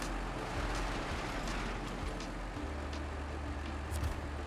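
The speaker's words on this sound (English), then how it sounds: "I will start the engine." In the SnowRunner video game, a truck engine turns over and settles into a deep, steady idle rumble about midway through, over a constant mechanical hiss with a few faint clicks.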